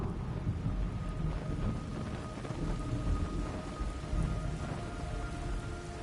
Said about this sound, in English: Blood rain. It's raining blood.